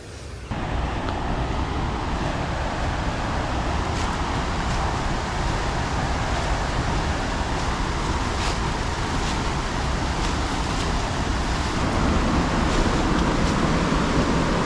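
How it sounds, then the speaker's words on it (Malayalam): Athirappilly waterfall on the Chalakudy river roars as a broad, steady rush of falling water heard from a distance, constant and unbroken throughout. "വേണ്ട ചാലക്കുടി പുഴ, വെള്ളച്ചാട്ടത്തിൻ്റെ ശബ്ദം കേൾക്കാം"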